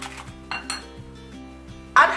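A whisk scrapes and taps against a bowl of cake batter with melted butter for a pineapple upside-down cake, a few clinking strokes close up, the last one loudest.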